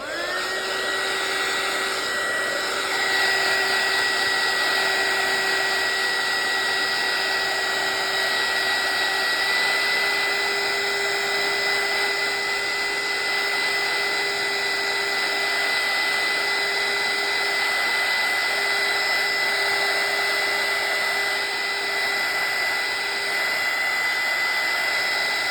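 A hair dryer blasts air over wet decoupage for a tea bag paper junk journal, a loud, unbroken whooshing drone with a steady tone that lasts the whole time.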